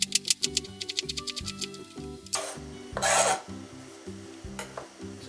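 Rapid rhythmic chopping of onions with a knife on a board for a Romanian chicken soup, close and crisp, with a short pause and scraping sound midway before the chopping resumes.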